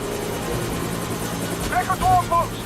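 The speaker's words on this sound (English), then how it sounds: "Helicopter inbound." An approaching helicopter in the James Bond 007: Blood Stone video game gives a steady low rotor drone under urgent voices.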